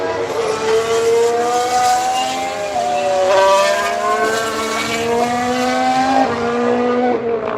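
A McLaren Formula 1 car in a testing session screams past, its loud, high-pitched engine note rising and dropping through quick gear shifts over several seconds.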